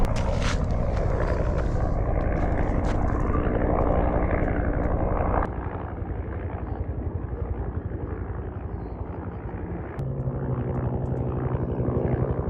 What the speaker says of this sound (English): They've got 3 helicopters out here.